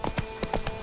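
Horse hooves clip-clopping in The Witcher 3, a quick run of sharp, close, evenly spaced hoof strikes in a short burst.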